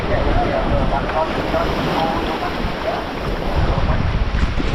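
A tour boat runs across turquoise sea off Phi Phi Island, a loud continuous rush of engine, wind buffeting and spray with no clear voices.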